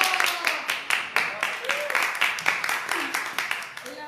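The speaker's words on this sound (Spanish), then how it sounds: "Un aplauso para ella, chiquillos." Small group applause for a studio guest, rhythmic clapping from a few people nearby with excited voices and cheers mixed in.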